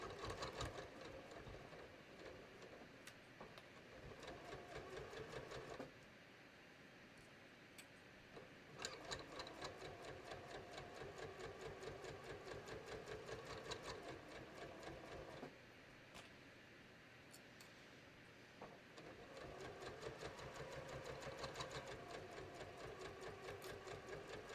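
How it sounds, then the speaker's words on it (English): A sewing machine stitches knit fabric with Ceraflex thread in long runs of rapid, even needle ticking, broken by short pauses between passes. The sound is fairly faint and close, with no talking. "I am just stitching along here"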